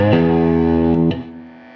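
An electric guitar played through a boost pedal into a tube amp with reverb rings out a bright, driven sustained chord, then is struck again near the end as the note decays, loud and alone.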